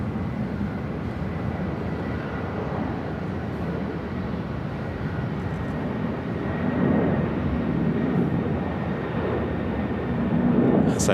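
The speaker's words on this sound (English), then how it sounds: "That's that Asiana cargo heading to SFO." An Asiana cargo jet bound for SFO rumbles steadily at LAX, a broad, continuous roar that swells slightly toward the end, with voices talking over it.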